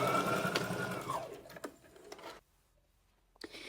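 A sewing machine runs close up, stitching a backstitch at the end of a seam on an invisible pocket. It hums steadily with faint ticks, stops for about a second, then briefly restarts.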